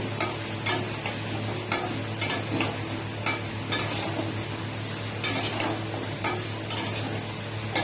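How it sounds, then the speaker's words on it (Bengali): Vegetables and spices frying in a pan for a Bangladeshi pumpkin-greens curry, with steady sizzle under repeated sharp scrapes and knocks of a spoon stirring against metal, close and fairly loud throughout. "এবার আমি সবজিগুলো মশলার সাথে সব ভেজে নেব।"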